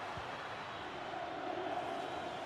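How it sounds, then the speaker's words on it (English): A stadium crowd in a Serie A football video game gives a steady, dense roar of massed voices that holds at an even level throughout, with no commentary over it. "just listen to the crowd"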